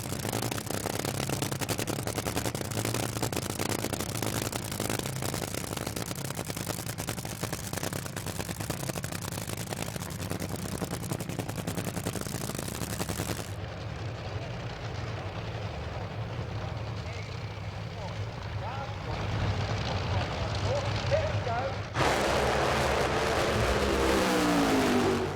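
Hemi-based nitromethane Top Fuel drag racing engines at an Andra Pro Series drag meeting, a sustained thunderous roar that cuts out abruptly, then distant crowd ambience before another loud blast, with commentary talking over it.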